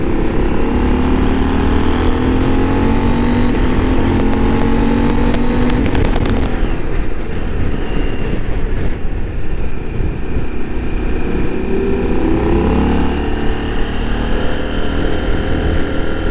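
A 2023 KTM 890 Adventure motorcycle engine revs hard and accelerates in third gear around 4,500 to 5,000 rpm on a wet, gravelly road, a loud continuous drone that rises in pitch, dips, then climbs again.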